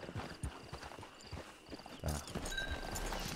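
Horse hooves clip-clop in the Red Dead Online video game, a loose run of hoof strikes close by that starts sparse and grows denser and louder partway through, with a brief word spoken over it.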